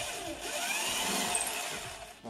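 Power drill boring through a 3D-printed drill guide template: a continuous high whine from the motor with slight changes in pitch as it cuts, then a brief drop near the end, with no talk.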